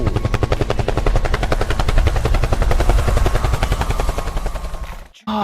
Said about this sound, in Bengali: এটা তো একটা টয় হেলিকপ্টার